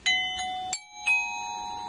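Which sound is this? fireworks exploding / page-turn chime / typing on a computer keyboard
page-turn chime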